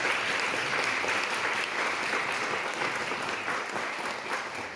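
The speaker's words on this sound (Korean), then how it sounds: "자, 우리 큰 박수로 환영하도록 하겠습니다." A church congregation applauds a welcome with a full, continuous wash of clapping from many people, evenly loud throughout and easing slightly toward the end, with no voices over it.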